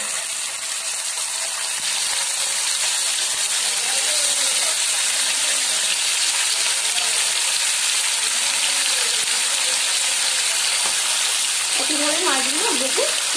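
Pabda fish fried in hot oil, a loud steady sizzle and hiss that runs the whole time, with a faint voice talking in the background.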